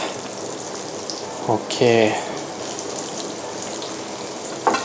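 Chicken pieces fry in hot oil for fried chicken with yogurt sauce, a continuous crackling sizzle like light rain, steady in the background while someone speaks briefly over it.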